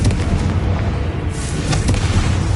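Confringo fire-blast spell from the Hogwarts Legacy video game, a dense booming roar of explosive energy that fills the whole stretch loudly and continuously, with a few sharper cracks near the middle and end.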